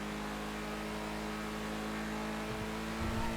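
A weaponized Deluxo car in GTA roleplay runs with a steady engine drone, holding a constant tone before a brief rise in revs at the end, moderately loud and with no voices.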